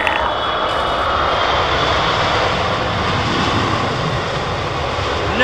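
Heavy jet airliner landing at London Heathrow Airport, a loud, close, continuous engine roar that stays steady throughout.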